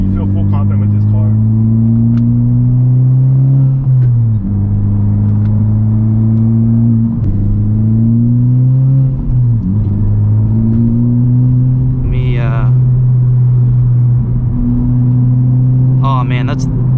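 A 2019 Honda Civic Type R being driven hard: a steady, loud engine drone rises in pitch and drops sharply at several gear changes, with a few brief voice fragments near the end.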